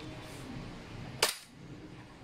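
A single sharp crack from a Umarex Glock 17 Gen 3 airsoft pistol with steel slide and steel barrel, loud and close, fired once midway through an otherwise quiet stretch.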